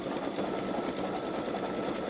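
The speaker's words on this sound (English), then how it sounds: "this sewing machine that I've only touched the very surface" A Baby Lock Solaris embroidery machine stitches rapidly and continuously with a steady mechanical whir and fast rhythmic ticking, close by.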